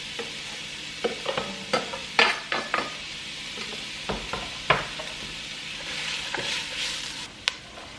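Onion frying in oil for green chile enchiladas: a steady sizzle under repeated spoon clinks and scrapes of stirring, close and fairly loud, with no voices.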